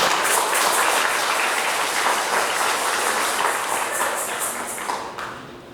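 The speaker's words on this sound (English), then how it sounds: "Give yourself a round of applause." A festival crowd at an indigenous heritage event bursts into loud, dense applause that holds strong, then thins and fades toward the end.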